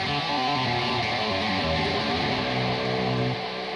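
A distorted electric guitar plays a lick at full speed, a dense, continuous run of notes with a sustained saturated tone that fills the whole clip with no voice.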